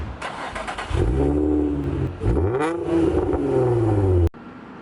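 A Nissan 350Z engine with its stock exhaust is revved close up, rising to about 3,000 RPM in two loud climbing pulls with a dip between, then cutting off abruptly.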